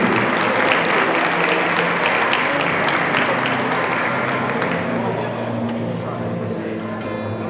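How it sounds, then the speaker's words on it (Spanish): Sustained applause from a seated audience at a neighborhood leaders' dinner, dense steady clapping that carries through and tapers slightly toward the end, with a voice speaking over it. "Un aplauso también para estos vecinos."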